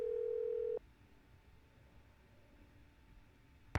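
Telephone dial tone in a Nancy Drew mystery video game: a steady, clear tone that cuts off abruptly, followed by quiet line hiss and a faint brief click or ring at the very end.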